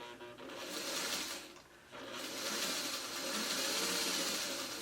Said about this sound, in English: now I'm going to lift my foot just a bit and get that first stitch